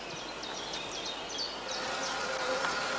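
Honey bees buzzing around skep hives outdoors, a dense steady hum of many insects with individual bees whining past nearby, alongside faint birdsong.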